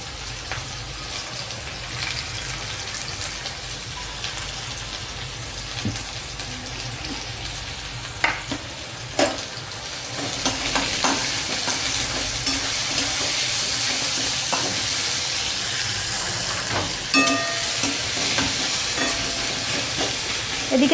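Chopped onion frying in hot oil for dhaba-style aloo paratha filling, a steady sizzle that thickens into a louder, denser hiss partway through, with a few sharp pops and clicks.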